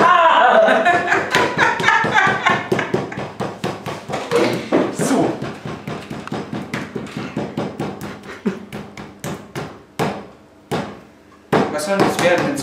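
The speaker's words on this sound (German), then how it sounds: "Darfst du jetzt schön ausklopfen." A meat tenderizer pounds a pork fillet being flattened for rolls: a long run of rapid, loud, close thumps in a steady rhythm that slows and thins toward the end, with no talking over it.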